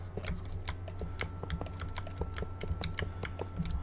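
A loud computer keyboard rattles with rapid, steady keystrokes while someone plays Minecraft. The clicks are close and dense over a low background hum, with no speech.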